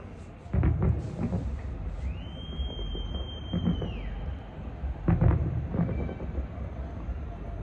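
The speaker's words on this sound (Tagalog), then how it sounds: "ang layo ng fireworks sa ating bahay." Distant New Year fireworks go off near a home: several muffled low booms arrive irregularly, one sounding with a rising then falling whistle-like tone. Wind noise and faint voices sit in the background.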